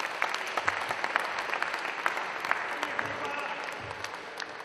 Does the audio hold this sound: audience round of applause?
yes